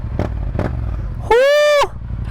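A Yamaha FZ-07 motorcycle rumbles low and steady nearby while being ridden, and a loud whooping shout briefly cuts over the engine.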